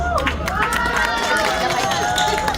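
A large, dense crowd gathers for a Shiv Sena party branch visit, a steady roar of many voices, shouting and movement filling the space continuously and loudly throughout.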